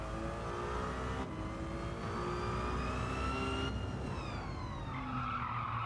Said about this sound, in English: The Ferrari's worth it just for that noise.